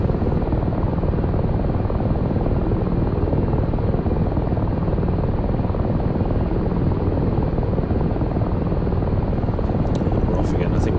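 Ka-50 helicopter rotor in the DCS flight game, a loud, dense, continuous whirring roar close by, steady throughout with no letup.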